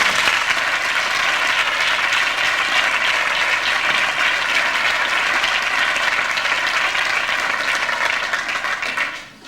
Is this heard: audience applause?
yes